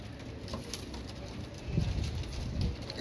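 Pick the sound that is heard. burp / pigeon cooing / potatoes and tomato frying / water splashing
pigeon cooing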